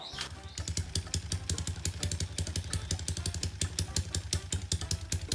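Motorcycle engine with a 200 compression build idling with a rapid, pulsing thump, lumpy and loud up close, steady beats throughout with no revving burst.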